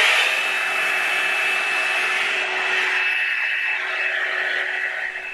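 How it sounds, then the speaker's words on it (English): A Revlon One Step blow dryer runs steadily and loudly as it dries hair, a continuous airy roar with a fixed motor whine holding through the whole stretch and easing slightly near the end. "And then I proceed to blow dry in that section after detangling it."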